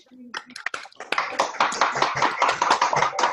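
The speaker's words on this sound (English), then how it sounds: "give them all a big round of applause" Webinar participants, just unmuted at a Christmas success session, give a round of applause: after a brief spoken line, a dense, steady patter of many people clapping fills the rest of the moment.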